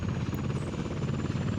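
A helicopter in the Soviet city-building game Workers & Resources: Soviet Republic, a loud steady rotor thrum with rapid pulsing chop, close and continuous with no talk.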